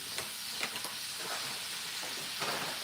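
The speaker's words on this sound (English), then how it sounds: "It's gonna get the sizzling real good." Thawed stir fry ingredients sizzling in a pan, giving a soft, steady hiss with small crackles and light stirring clicks now and then, quiet and close with no voices.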